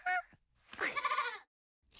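Cartoon goats bleat twice, a short bleat followed by a longer wavering one, loud and close, with no talk over them.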